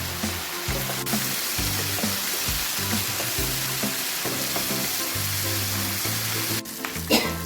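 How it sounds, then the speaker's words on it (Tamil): Mutton chukka masala fries in a pan with a constant sizzling hiss, punctuated by repeated low scraping knocks of a spatula stirring the meat, ending in a louder clatter. "அது கொஞ்சம் ஃப்ரை பண்ணலாம்"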